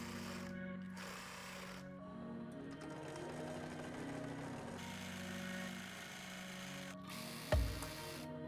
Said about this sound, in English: I'm just going to fold like a half a centimeter hem and sew all along there